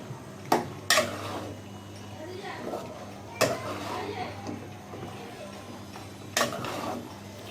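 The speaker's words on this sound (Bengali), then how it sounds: "এখন আমি ঢাকনা দিয়ে দিচ্ছি" A metal lid set onto a cooking pot of greens (pui, lau and pumpkin leaves with potato and shrimp), giving a few sharp clinks and clatters spread over several seconds, with soft kitchen handling in between.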